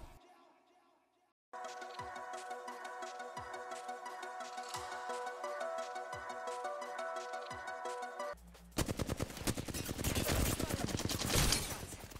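Sustained Spitfire machine gun fire in Apex Legends, a dense loud rattle of shots lasting several seconds, followed by a harsher burst of gunfire and game noise as a voice talks over it.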